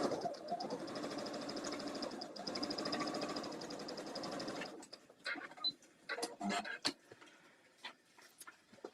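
A sewing machine stitches a quilt block in a steady whirring run for about five seconds, then stops. Scattered clicks and handling noises follow, with some quiet talk.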